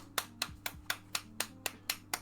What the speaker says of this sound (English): I don't know who's clapping